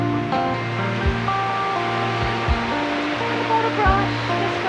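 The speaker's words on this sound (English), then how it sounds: "Second little spring-fed creek." A small spring-fed creek in remote Cape Melville National Park, Cape York Peninsula, runs with a steady broad wash of flowing water, while a low hum and brief tones sit underneath.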